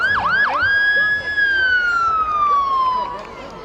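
Lowell Fire Department sirens at the City of Lights parade: a loud, close siren gives two quick whooping yelps, then holds a long wail that slowly falls in pitch and fades, with crowd noise underneath.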